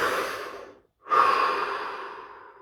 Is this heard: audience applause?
no